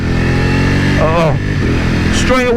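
A 2021 Ducati Panigale V4S sport motorcycle engine on stock Euro 5 exhausts rumbles steadily and loud, with a couple of rising revs, while someone talks over it.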